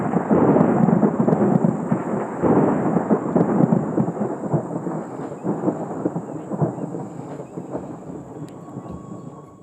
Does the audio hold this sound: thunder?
yes